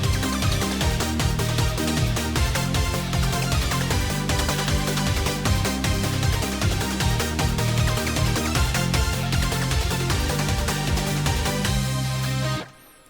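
Programmed metal guitar MIDI track of chugging palm-muted power chords voiced root, fifth and octave root, played loud and dense with driving drums, then cutting off abruptly at the end.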